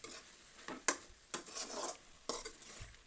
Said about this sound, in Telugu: ఇలా ఒక్కోసారి మధ్య మధ్యలో కలుపుకోవాలండి, ఎందుకంటే అడుగంటకుండా ఉంటుంది.